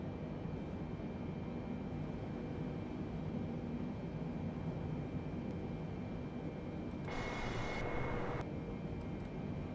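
Steady, broadband roar of Antonov An-225 engines in Microsoft Flight Simulator, a continuous even drone with a brief higher-pitched tone appearing near the end.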